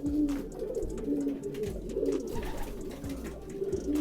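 Pigeons coo repeatedly in soft, low, rolling calls, close by, with faint rustling in the background.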